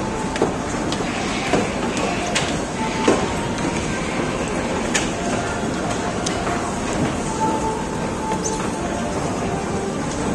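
Steady rumbling of a crowded moving London train fills the scene, with scattered clicks and rattles riding over the constant noise.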